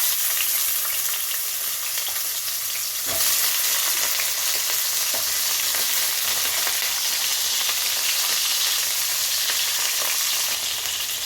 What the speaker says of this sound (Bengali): এবার আমি বেগুনগুলোকে ভেজে নিচ্ছি